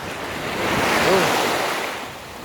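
Ocean waves wash in at the seashore, a close, broad surf roar that swells and recedes once, with wind buffeting the microphone.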